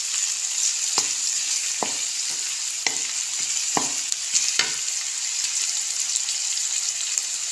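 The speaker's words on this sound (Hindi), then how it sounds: "हल्का सा लाइट सा फ्राई कर लेना है।" Pakora slices frying lightly in hot oil, with a steady close sizzle and a few soft clinks from stirring at intervals.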